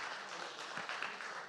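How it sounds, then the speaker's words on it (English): Audience applause for a stellar, distinguished panel at a national review conference in Goa: steady, dense clapping from a hall crowd, fairly faint and continuous throughout with no voices over it. "can I request you for a huge round of applause for such a stellar and distinguished panel"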